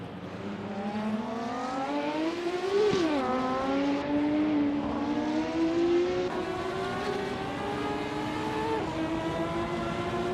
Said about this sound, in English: Maya is driving a Porsche 917LH, starting from the 20th position